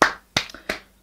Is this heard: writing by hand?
no